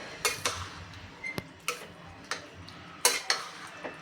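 Salted masoor dal masala khichdi stirred in a pressure cooker with a metal spoon, giving a string of light clinks and scrapes in an irregular rhythm, close and fairly quiet with no talking.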